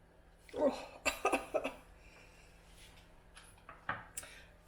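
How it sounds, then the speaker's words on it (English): A cook in a kitchen coughs several times in a quick close burst, then a faint cough or throat noise follows a few seconds later over a low hum. "That's a good cough."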